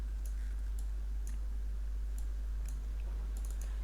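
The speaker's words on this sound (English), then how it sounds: "Click on details and then click on install and then click on install" Computer mouse clicks while installing software on Windows 11, a handful of faint, sharp ticks spaced irregularly over a low steady hum, with no talking.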